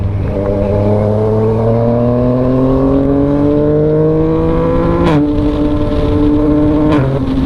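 Yamaha MT-09 motorcycle with traction control switched off, engine revving hard through rising pitch sweeps, with two sharp quickshifter upshift cuts before the note climbs again, loud and close with no talk.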